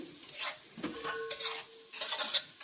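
Fried egg with turmeric and salt is stirred in a pan for street-style egg noodles, short irregular bursts of spatula scraping and soft sizzle, quiet and close, with no voices.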